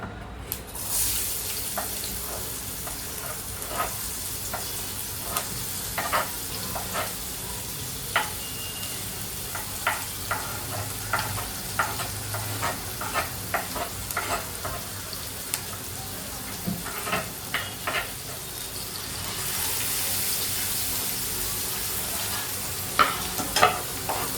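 Chopped onion sizzles in a hot pan for a mushroom masala bhaji, with a steady frying hiss and frequent sharp clicks and scrapes of a spoon stirring against the pan, close and continuous with no talking.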